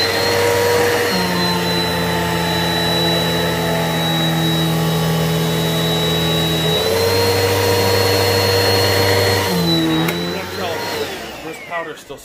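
A Eureka vacuum cleaner running on carpet with pet carpet powder, a loud, steady motor whine with a shifting pitch partway through, close up, winding down at the end.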